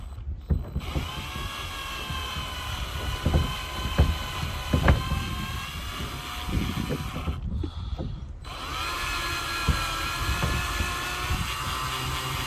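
A power drill whines steadily at high speed, grinding into hard plastic, stopping briefly and then starting up again.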